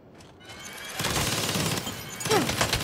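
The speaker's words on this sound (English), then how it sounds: "Is that a fucking minigun?" A minigun firing in the Saints Row video game, a sustained dense roar of rapid fire that kicks in after a quieter moment and keeps rolling to the end, with a brief rising whine near the close.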